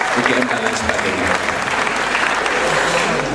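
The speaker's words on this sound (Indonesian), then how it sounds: "tepuk tangan buat mahasiswa UNY dan UGM dan lain sebagainya" Dense, sustained applause from a large audience of about a thousand people inside and outside a hall at a university cultural gathering, clapping for UNY and UGM students, steady and loud for the whole stretch.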